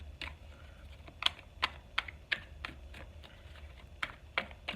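Tarot cards being drawn and shuffled give a steady run of light, close taps and flicks, a dozen or so crisp clicks in an irregular rhythm against quiet room background.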